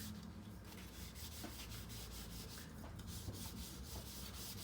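Soft, continuous rubbing as aluminum intercooler pipe is turned and wiped clean before welding, a steady close abrasive hiss with faint regular strokes.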